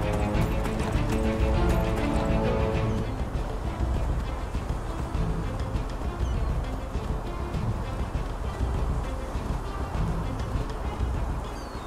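Horse hooves clip-clop steadily in the Enderal role-playing game, a continuous rhythmic stream of hoofbeats that is fairly loud and close. Tonal game music plays underneath during the first three seconds.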